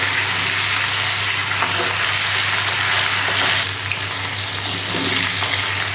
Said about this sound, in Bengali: মাছটা ভাজা হয়ে গেছে